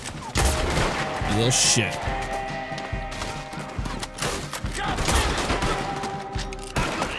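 Repeater rifle gunfire in Red Dead Redemption 2 blasts out loud and dense amid other game combat noise, with someone talking and swearing over it.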